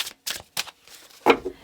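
Tarot cards shuffled in several quick, crisp riffling bursts close by, each short and papery, with a louder final burst.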